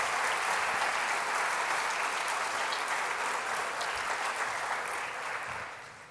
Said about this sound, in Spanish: Reiteramos este fuerte aplauso para Malitza Regada, su extraordinaria interpretación de hoy.